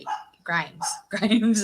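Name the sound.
dog barking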